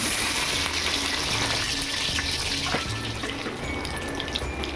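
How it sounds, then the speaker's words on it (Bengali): Parboiled potato pieces fry in a pan, a continuous, fairly loud hiss of hot oil that runs without a break from start to finish, with no talking. "এই যে এবার আমি আলুগুলো ভেজে নেব।"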